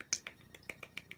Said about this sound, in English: The small clap, maybe a big one too. Golf clap.